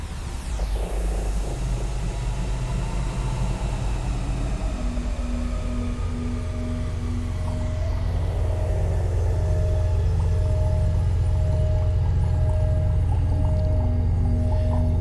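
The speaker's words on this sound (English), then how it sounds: "one thing that's activated in port mode is this motor parameter. And what this is doing is I'm just trying to simulate some kind of machine outside of the ship doing work" Simulated spaceport ambience around a docked ship: a steady low engine-like rumble with sustained tonal hums and drifting whale-like tones, a working machine motor droning continuously outside the hull, no voices.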